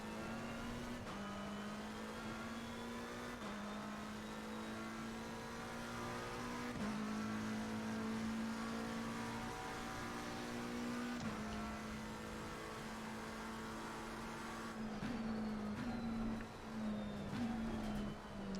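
McLaren GT race car lapping Suzuka in Assetto Corsa Competizione, a sustained high-revving engine drone climbing through gears with brief drops at each shift, loud and continuous throughout.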